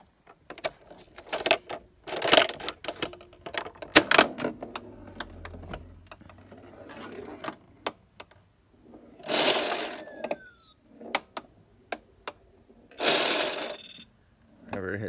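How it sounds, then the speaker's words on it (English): Battery-operated State Fair Big Wheel pinball machine from 2004, its bumpers giving short electronic beeps and rattling clicks as the ball strikes, in scattered irregular bursts with small clacks and rolling noises between them. "whenever it hits the bumpers, they light up, make a noise."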